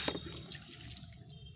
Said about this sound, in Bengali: এখন গাছটায় ভরপুর জল দিয়ে দেবো